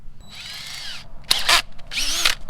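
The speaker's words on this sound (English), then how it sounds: "you're just gonna need a 1/4 ounce drill bit and a drill and enough confidence to drill 2 holes in your boat" A power drill drives a 1/4 inch bit into a boat hull near the skeg, with a steady whine running about a second, then a gap and two more bursts of drilling, loud and close.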